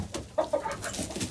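Rooster clucking indoors in a coop, a few short close calls in quick succession over a soft background rustle.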